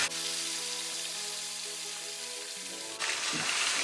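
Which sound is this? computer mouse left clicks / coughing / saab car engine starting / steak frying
steak frying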